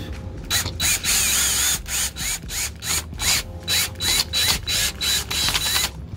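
A fastener being tightened with a ratcheting tool during home renovation work, giving a loud, steady run of rapid clicking bursts in quick repeated strokes, close up with no talk.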